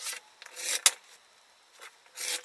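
Rotary cutter slicing a fabric panel into 2-inch strips, a few close, faint dry swishing rasps with short pauses between strokes.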